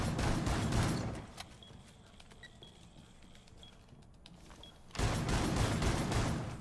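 Rapid video game gunfire in dense loud bursts at the start and end of the clip, with a quieter lull between them.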